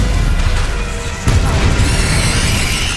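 Stupefy spell cast in Hogwarts Legacy, a heavy booming impact that cuts in partway through over dense combat noise, followed by a bright ringing shimmer.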